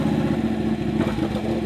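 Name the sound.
modified Ducati Panigale 899 R motorcycle exhaust revving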